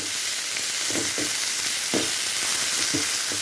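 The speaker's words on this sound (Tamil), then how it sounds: "தக்காளி பழத்தோடெல்லாம் எடுத்து பாருங்கள் இன்னும் கொஞ்சம் வதக்கணும்" Tomatoes for an herbal thuvaiyal sauté in a pan with a constant close sizzle, and a few soft scraping stirs break in every second or so.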